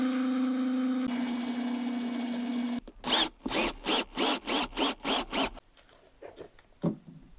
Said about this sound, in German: Jetzt schraubt Uwe hier noch weiter.